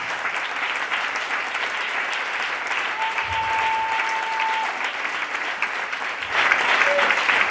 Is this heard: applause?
yes